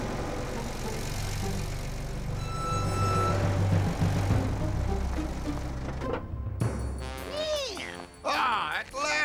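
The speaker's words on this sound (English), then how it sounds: "A sharp ear hear approach of iron carriage running on cobbled roadway." Cartoon truck rumbling along a cobbled roadway, a low engine drone with rattling that rises and fades, followed by voices talking and sliding tones near the end.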